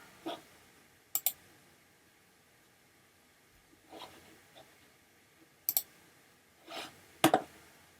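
Sparse, sharp mouse clicks while cursors are set on an oscilloscope, coming in small separate bursts with quiet gaps between them, close by and fairly soft.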